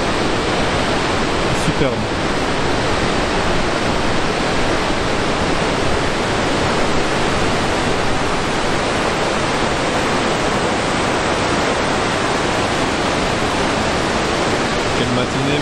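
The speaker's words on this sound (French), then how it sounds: "Voilà la cascade en question." Powerful roaring rush of a high-volume waterfall in Norway fills the whole stretch, steady, loud and close, with a brief spoken exclamation over it.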